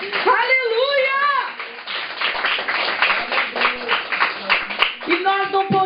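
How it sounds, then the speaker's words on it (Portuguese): Church congregation clapping for Jesus during a Portuguese-language service, a dense run of handclaps after a voice, with speech returning at the end. "Pode aplaudir o Senhor Jesus."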